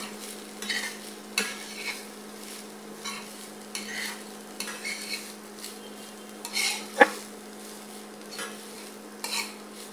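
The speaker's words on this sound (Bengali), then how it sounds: "চিংড়ি শুটকিগুলোকে এখন নেড়ে চেড়ে সুন্দরভাবে ভেজে নেব।" Dried shrimp stir-fried in mustard oil in a pan, with soft, close scraping strokes at an irregular pace over a low steady sizzle and one sharp metallic clink partway through.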